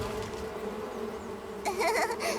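Cartoon bees near their hive give a steady insect buzz that swells into a louder, warbling hum toward the end, with no talk.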